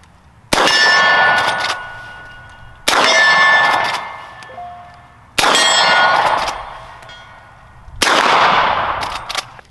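Four gunshots strike steel target plates outdoors, each a sharp loud crack followed by a ringing metallic clang that decays over about two seconds, spaced evenly apart with no talking.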